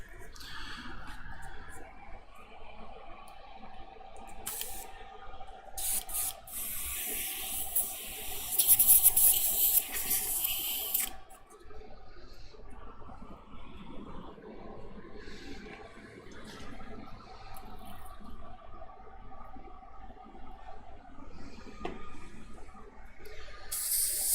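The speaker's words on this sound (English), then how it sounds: "I'm just kind of cleaning the airbrush a bit, running some homemade cleaner through it." Airbrush spraying homemade cleaner through it, a soft hissing spray that swells briefly and recedes, with a voice talking over it throughout.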